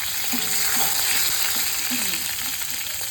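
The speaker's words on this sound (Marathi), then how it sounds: "मस्त फोडणी तडतडली" Curry leaves and green chillies crackle in very hot oil during a tempering for jhunka, a close, continuous frying sizzle dotted with small pops and stirring sounds for about three seconds.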